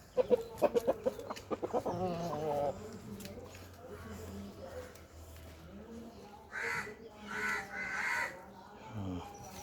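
Chickens cluck and a fighting rooster calls several times amid rustling and people talking nearby, with sharp tapping sounds early on, during rooster training.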